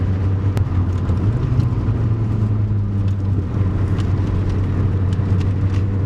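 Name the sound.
turbocharged Evo rally car engine boosting out of a corner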